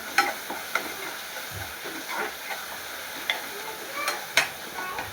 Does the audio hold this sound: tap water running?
no